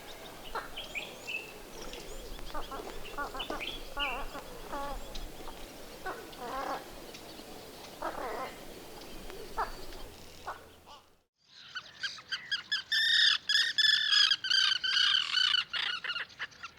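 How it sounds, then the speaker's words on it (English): A male European bee-eater calls at the Kalloni wetlands on Lesbos in late May. Soft, scattered chirps come first over a quiet background. Then a loud, close run of rapid, rolling, harmonic notes repeats in quick bursts. "Here a male European bee-eater reminds us of the things we do for love"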